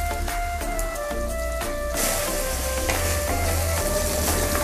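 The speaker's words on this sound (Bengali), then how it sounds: "আদা রসুন দিয়ে আমি আরও 2 মিনিট ফ্রাই করে নিচ্ছি।" Ginger-garlic paste and chopped tomato fry for jackfruit biryani, a steady loud sizzle throughout with occasional stirring scrapes. Partway through, the frying swells as the tomato goes in.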